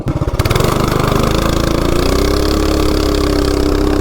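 A CT200U-EX mini bike fitted with a big block engine and a torque converter starts with a few quick pulses, then holds a loud, close, steady engine roar that climbs in pitch as it accelerates.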